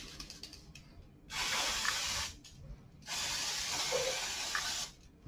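Brake cleaner sprays in two loud hissing bursts, each roughly a second or more long, onto the NISSIN rear brake of a Triumph Tiger 1050 motorcycle, with quiet pauses between them.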